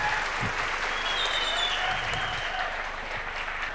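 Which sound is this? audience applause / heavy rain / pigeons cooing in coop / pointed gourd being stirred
audience applause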